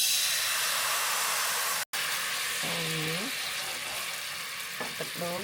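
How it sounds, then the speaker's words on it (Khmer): Coconut milk goes into a heated pan for a Khmer beef curry, and a continuous hiss and sizzle runs throughout. A brief dropout near the middle is followed by faint tonal, voice-like sounds. "ឥឡូវខ្ញុំបើកភ្លើងកម្ដៅខ្ទះបន្តិចសិនរួចហើយខ្ញុំដាក់ទឹកដូង"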